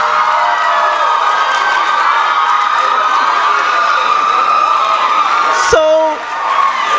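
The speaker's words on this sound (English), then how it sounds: "Kindly clap for all of them." Audience at an inter medical schools public speaking competition clapping and cheering for the contestants, a sustained loud crowd roar with whoops, briefly cut by a sharp knock near the end.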